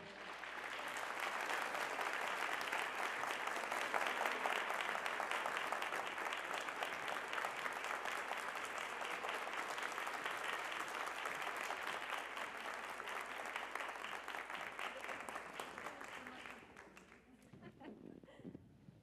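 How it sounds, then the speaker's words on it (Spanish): Sustained applause from an audience greeting guests at the Bogotá International Book Fair, a broad, even roar of many hands that holds steady and then tapers off and dies away near the end. "les pido un aplauso a nuestros invitados Camilla Läckberg y Marta Orrantia, por favor"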